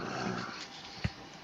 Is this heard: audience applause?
no